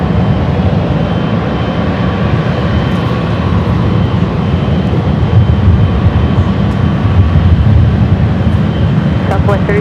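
Jet airliners, including a French B and a Swiss flight, roll for takeoff from the north side runways at LAX, a steady loud broadband engine roar and rumble that holds throughout with no talk.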